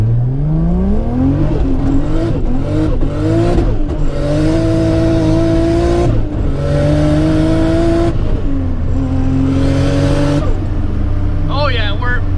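Self-built 600 hp 2JZ-swapped Nissan 300ZX accelerating under turbo boost, loud and close from inside the cabin, the engine note climbing repeatedly through gears with brief drops at shifts, a driver's voice heard briefly near the end.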